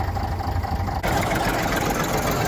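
Tractor engine idling steadily on a farm during corn harvest wagon unloading, a loud close low rumble with a slight shift in tone about a second in.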